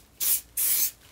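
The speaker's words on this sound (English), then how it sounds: "you just spray a bit of this contact cleaner, or sorry, sticker remover off" Sticker remover sprayed from an aerosol can onto a washing machine's decal panel: two close, loud hissing bursts, each roughly a third of a second, separated by a brief pause.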